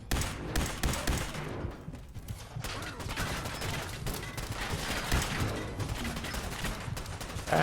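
A Fallout 4 firefight rages with dense, continuous gunfire and impacts, a loud, busy barrage of overlapping shots and crashes throughout.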